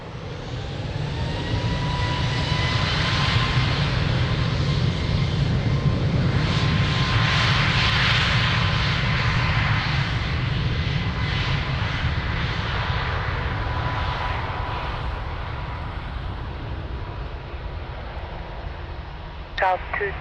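An aircraft taking off from runway 02 at Lisbon Airport gives a loud, sustained engine roar that holds steady and slowly fades, with radio voices talking over it.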